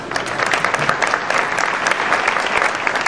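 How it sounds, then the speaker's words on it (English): Audience applause at an award ceremony, a dense, steady clatter of many hands clapping throughout, loud and sustained without letting up. "May I ask you to hold your applause for the rest of the distinguished guests"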